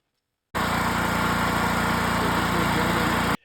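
A small gasoline engine running just after a new carburetor was fitted, starting abruptly and holding a steady, buzzing idle for about three seconds before cutting off, close and loud, with no voices.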